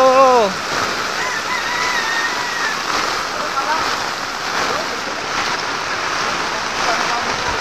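Heavy rain lashes down in a storm, a loud, steady wash of splashing water, with a short voice rising at the very start over the downpour.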